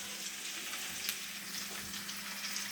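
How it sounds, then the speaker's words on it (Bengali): Onions frying in oil for dal, a steady close sizzle and crackle with occasional louder pops, running throughout with no talking. "আর ডালের জন্য এই যে বেরেস্তা ভাজছি"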